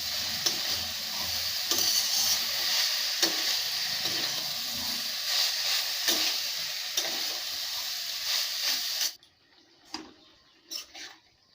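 Mustard-chili vegetable curry with potatoes and stems is stirred and fried in a pan held with tongs, a dense sizzling hiss under repeated scraping strokes that suddenly cuts off, leaving a few faint clinks.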